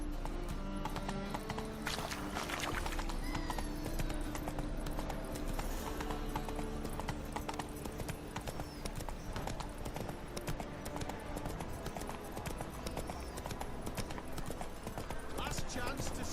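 Roach, Geralt's horse in The Witcher 3: Wild Hunt, gallops with a continuous rapid clatter of hooves. A neigh or two rises over the ride, and game dialogue and music sound in the background.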